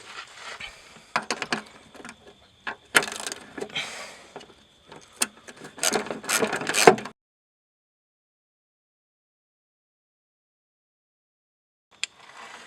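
Two 12mm nuts on a Mazda 3 rear shock are tightened by hand in a run of close metallic clicks and ratchet-like rattles, then sudden silence with one brief click near the end.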